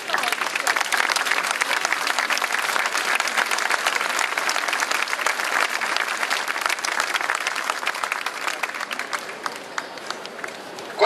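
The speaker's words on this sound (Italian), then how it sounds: "Questo applauso ve l'avrei chiesto, ma il vostro buonsenso e la vostra nobiltà d'animo mi ha preceduto." A crowd at the 2012 Santissimo Salvatore festival in Cefalù applauds outdoors, dense sustained clapping that holds steady, then thins a little toward the end.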